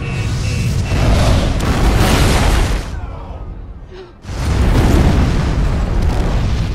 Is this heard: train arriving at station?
no